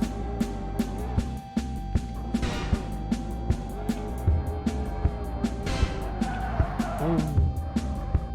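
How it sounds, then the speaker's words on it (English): Video game scorpion vehicle spinning out, with a loud continuous engine roar, repeated tire squeals and skids, and sharp clacks throughout, while a person talks briefly over it. "I love when I spin and then the engine noises."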